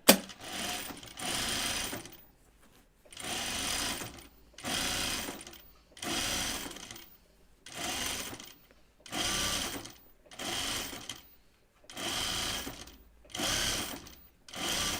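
A sewing machine stitching an anorak seam in rapid mechanical bursts, about nine runs of roughly a second each separated by short pauses, close but moderately quiet.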